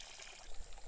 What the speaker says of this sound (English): just go around with the hose,